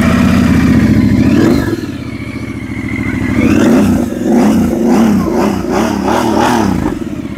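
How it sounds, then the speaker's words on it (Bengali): A Royal Enfield Interceptor 650 with a modified silencer idles with a thumping burble, then is revved several times in quick throaty bursts, loud and close, with no talking. "একদম মডিফাইড সাইলেন্সার, ইন্টারসেপ্টর 650 VR"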